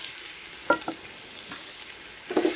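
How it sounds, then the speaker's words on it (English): Onions frying in rice bran oil, a soft continuous sizzle with a couple of brief stirring scrapes, fairly quiet and without speech. "All right, chuck our onions in."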